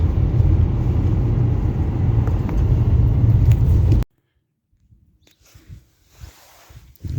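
Trucks and cars wait on a road with engines idling, a loud, close, rumbling drone that runs for about four seconds, then cuts off abruptly to near silence broken by faint scattered noises.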